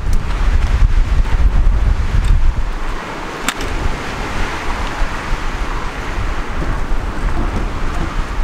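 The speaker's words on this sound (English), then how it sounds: "should hold it in this crazy wind we're having." A strong wind roars steadily and loudly against the microphone, a constant heavy rushing that barely lets up.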